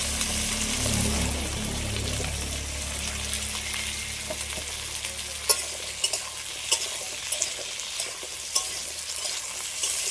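Small washed chunks of two potatoes sizzle loudly in a frying pan while a spoon stirs them, giving a steady fry hiss with scraping knocks, close by and without speech.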